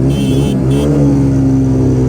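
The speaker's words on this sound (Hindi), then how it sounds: "ओहो, व्हीली मार के लॉन्चिंग की है भाई साहब ने" A Hero Splendor Plus motorcycle launches hard in a race against a TVS Radeon, its engine revving loudly and rising in pitch up close for about two seconds, no talk over it.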